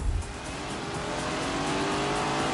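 A Lamborghini with a V8 engine drives on a test track, giving a steady, distant engine roar with faint tire noise that swells slightly as it goes.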